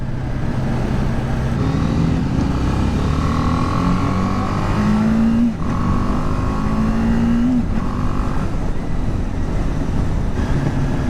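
BMW G310R motorcycle engine revving hard while riding, pitch climbing through the gears in several rising pulls with short dips at shifts, loud and close over steady wind rush, no talk.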